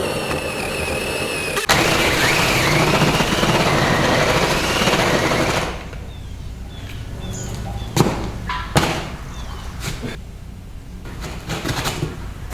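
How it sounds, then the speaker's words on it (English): A hole cutter grinds loudly around a ceiling electrical box, a sustained rough cutting noise that stops abruptly, followed by a few scattered knocks and taps in a quieter room. "I'm going to take my hole cutter and I'm going to cut around the box"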